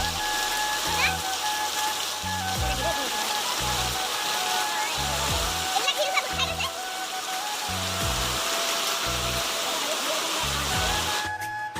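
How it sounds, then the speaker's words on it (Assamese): Heavy rain mixed with falling hailstones pours down in a dense, continuous roar, close and loud, while low rhythmic thumps repeat underneath. "পুৰা শিল বৰষুণ হৈছে আৰু মানে বহুত ডাঙৰকৈ বৰষুণ দিছে আৰু পুৰা শিল পৰিছে"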